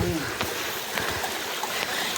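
Water flowing in a small stream along a Nepali mountain trekking trail near a monastery, a steady, soft broadband rush with a few faint knocks and bumps.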